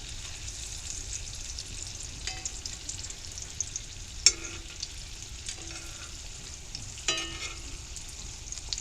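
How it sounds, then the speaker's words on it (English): Apples sizzle steadily in a hot cast iron skillet on a camping stove, a continuous hiss broken by occasional pops and scraping clinks of a utensil, close and alone. "apples are sizzling"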